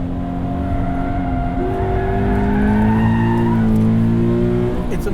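A 2018 Subaru BRZ tS held at full throttle on a race track, engine note climbing and droning loudly in sustained rising tones through a gear, with a brief tire squeal and wind noise, no talking.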